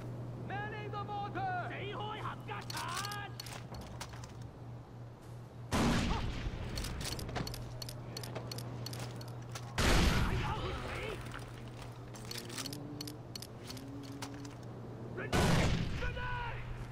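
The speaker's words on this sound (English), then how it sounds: "Manning the mortar." A mortar in Far Cry 4 goes off in three heavy booms spaced several seconds apart, loud against a low steady hum, while a voice talks in between.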